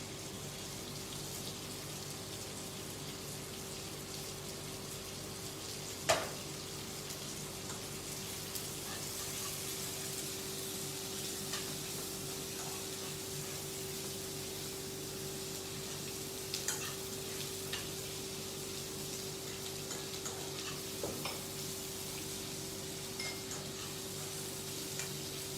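Cumin and onions frying in a pan for a Sindhi dish, a continuous even sizzle close up with occasional clinks from stirring and a faint steady hum underneath.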